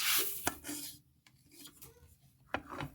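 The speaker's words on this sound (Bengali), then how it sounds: "ধনেটা দিয়ে আমি কিছুক্ষণ নেড়ে নিচ্ছি" Dry coriander seeds scraped and stirred with a spoon in a warm pan, a soft close rasping with a few sharper clinks against the metal, quiet with short pauses between strokes.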